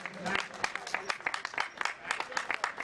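A crowd at a cricket league prize ceremony claps for the best batsman award, a brisk, dense patter of hands, moderately close and steady for a few seconds.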